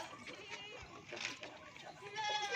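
Young goat kids bleat in short, high calls among a herd of nannies and kids at a goat sale, several overlapping cries over a noisy background with someone talking throughout.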